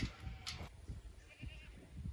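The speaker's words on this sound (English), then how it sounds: "You can hear the goats down there by my parents' house." Goats bleating in the distance on a frontier homestead, a few faint, short calls under steady outdoor background, with no talk.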